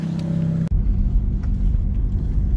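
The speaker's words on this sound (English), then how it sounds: "Show you guys what it's like to be in a gated manual Ferrari" Ferrari with a gated manual gearbox, engine note dropping abruptly to a deep low rumble heard from inside the cabin, loud and steady.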